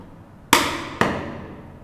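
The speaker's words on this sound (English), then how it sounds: "I'm going to move the chisel back about 1/2 mil or 1 millimeter with each cut." Two sharp mallet blows on a chisel, about half a second apart, each ringing briefly as the chisel cuts wooden dovetails for a tissue box; loud and close with no talk.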